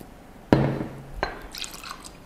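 Fresh milk pours into an iced coffee already holding condensed and evaporated milk. A sudden close splash is followed by a brief trickle and a few faint drips, with no talk.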